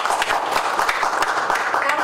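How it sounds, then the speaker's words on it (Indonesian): An indoor audience breaks into a short burst of applause, dense overlapping claps at an even level for about two seconds. "Dokter Benny, tepuk tangannya"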